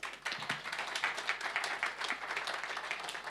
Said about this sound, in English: I would like to ask the audience to give my panel a great hand of applause